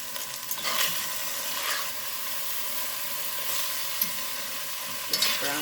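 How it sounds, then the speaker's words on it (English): Chuck beef browning in a pan is stirred, a steady close sizzle with scraping strokes of the spoon rising and falling throughout and a couple of sharper clicks near the end, no voices. "I'm just going to stir that up a little bit."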